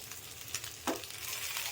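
Food frying lightly in oil on a tawa, a quiet close sizzle with a brief scrape or stir partway through.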